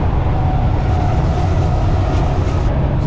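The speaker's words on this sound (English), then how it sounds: "Intermodal train, probably heading to the Port of California, Port of LA or something like that." An intermodal freight train hauled by five locomotives passes nearby on a rural line, a loud steady rumble and roar with no breaks across the short stretch.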